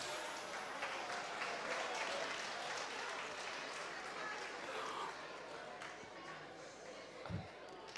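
Audience at a TVET consultative forum clapping, a dense continuous patter of many hands filling the hall evenly, with a voice speaking over it.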